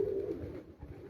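Low, soft cooing of a pigeon on a rooftop, close but quiet, a murmuring coo that rises and fades within a second with faint background hum.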